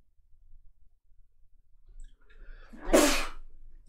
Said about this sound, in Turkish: Tam videoya başladığım gibi hapşırmam da